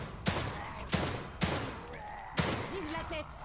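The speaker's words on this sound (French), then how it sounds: "Canardelez jusqu'à ce qu'il crève ou qu'on ait plus de munitions" Gunfire at an enemy in the video game The Evil Within 2, four loud, sharp shots spaced irregularly with decaying tails, close up, and a voice speaking between them.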